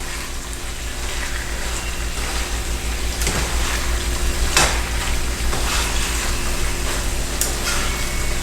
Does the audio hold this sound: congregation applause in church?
no